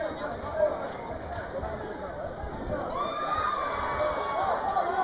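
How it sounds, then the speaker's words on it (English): A crowd at a combat-sports fight cheers and shouts in a steady, dense roar of many voices, rising slightly toward the end, with a commentator talking over it. "the fans are cheering for Usmanov charging forward with those punches"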